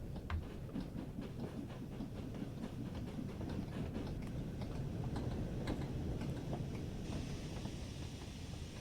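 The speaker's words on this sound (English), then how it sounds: "Now the train spotters watching the freight train go through." A Fowler 4F steam freight train rolls past on the West Somerset Railway in Train Sim World, a steady rumbling run with rhythmic ticking wheel clicks throughout.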